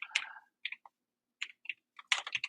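Scattered keystrokes on a computer keyboard, a few quick clicks in short irregular bursts with pauses between, close and fairly quiet, no voices.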